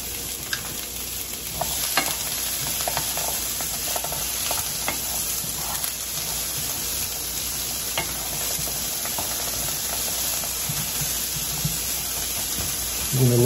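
Onion sizzles and fries in a pan, a loud, continuous hiss with scattered crackles and the occasional scrape of stirring, close up and with no one speaking.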